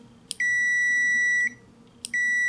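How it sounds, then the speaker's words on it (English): Continuity-test beep from an ANENG Q10 multimeter: two steady, loud, pure-toned beeps, each about a second long and starting with a brief click, separated by a short silence. "So here's the continuity test."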